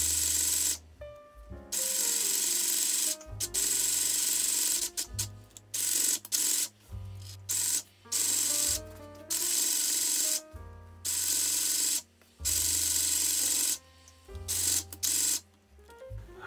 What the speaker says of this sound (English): I'm gonna sew a seam across here to keep the two sides separated.